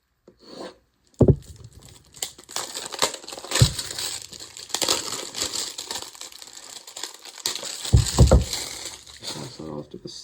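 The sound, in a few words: plastic packaging of a Fintiso folding knife being ripped open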